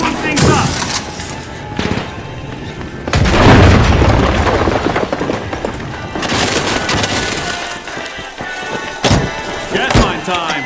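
A video game grenade explosion booms under busy gameplay noise, with a loud low blast around the middle and further thuds and crackles, while a voice talks over it.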